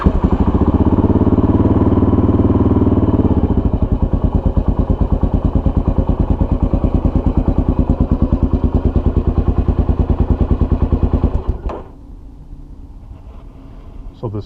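A Kawasaki KLR motorcycle with its big-displacement single-cylinder engine, fired up on a small Antigravity XPS lithium battery, runs loud with a rapid steady thumping idle for about eleven seconds before cutting off, leaving quiet.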